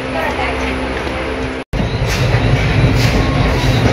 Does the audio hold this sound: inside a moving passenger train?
yes